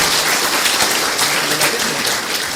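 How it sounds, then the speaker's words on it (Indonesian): An audience at a Calvinist-versus-GBIA church debate applauds steadily, a dense, loud wash of many hands clapping throughout with no pause. "Oke, kita aplaus dulu."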